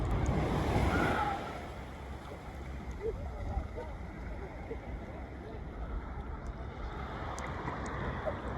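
Sea waves wash steadily along the shore of Sal island in Cape Verde, a continuous broad rush that is slightly louder at the start and then settles into an even surf with a wind-like hiss.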